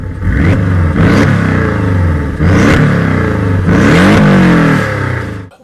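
Porsche engine revving loud and close, several sharp rev bursts rising and falling over a constant rough exhaust roar.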